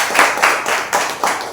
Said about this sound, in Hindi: एक जोरदार ताली बजाए परमेश्वर